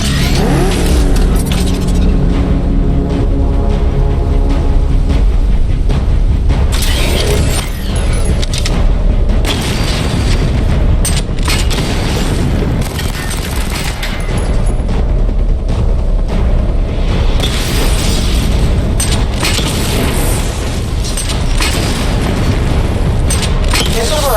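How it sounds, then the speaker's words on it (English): Batmobile weapon fire and missile barrage in Batman Arkham Knight, heavy booming blasts and rumbling engine layered with game music and effects, loud and continuous throughout. "Destroy targets to charge up weapon energy and activate missile barrage."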